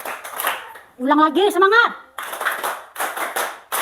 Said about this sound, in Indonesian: Kasih ya tepuk tangannya.